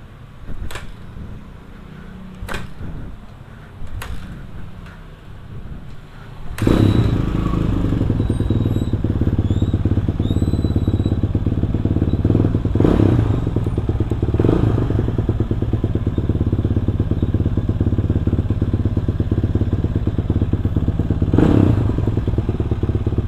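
A Kawasaki KLX supermoto bored up to 450cc, freshly washed, with a few clicks and thumps before the engine starts and settles into a loud, steady close-up idle rumble.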